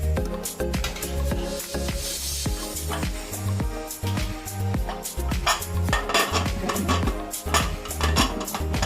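Metal spoon scraping and clinking against a pot of chicken stew as it is stirred, with repeated close, busy clatter and rattling that runs steadily throughout.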